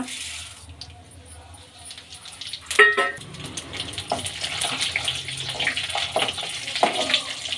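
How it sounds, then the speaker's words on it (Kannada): Mustard seeds, cumin, chana dal and urad dal hit hot oil for a potato kootu, a sharp clatter giving way to a steady crackling sizzle that builds and holds to the end. "ಈಗ ಎಣ್ಣೆ ಕಾಯ್ದಿದೆ. ಸಾಸಿವೆ, ಜೀರಿಗೆ, ಕಡಲೆಬೇಳೆ, ಉದ್ದಿನಬೇಳೆ ಹಾಕ್ಕೊಳ್ಳೋಣ."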